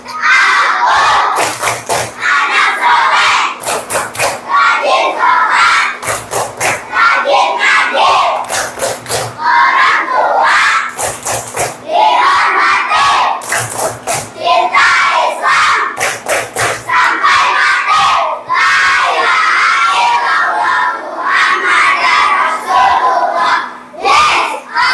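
A class of children chants 'tepuk anak soleh' together and claps in steady rhythmic bursts. The loud, close group voices and sharp hand claps repeat for the whole stretch.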